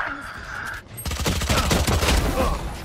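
Gunfire in the tactical shooter Valorant: after a brief lull, a loud burst of rapid automatic shots rattles out close up, with a faint voice under it.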